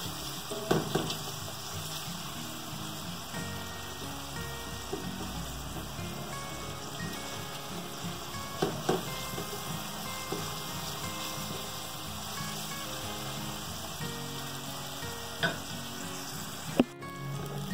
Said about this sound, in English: Let that saute up first.